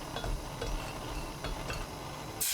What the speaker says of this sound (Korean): 냄비에 손질한 국물용 멸치 10마리 넣고 센 불로 1분 볶아주세요.